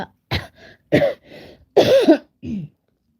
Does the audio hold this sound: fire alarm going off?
no